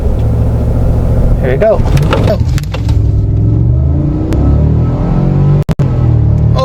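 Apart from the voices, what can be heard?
Cadillac Escalade accelerating hard from a stop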